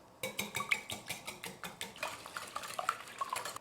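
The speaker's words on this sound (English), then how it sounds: "To the eggs, add just a pinch of salt, and then whisk." Six eggs with a pinch of salt being whisked in a mixing bowl, a quick, steady run of soft clinking strokes about four per second, close and quiet.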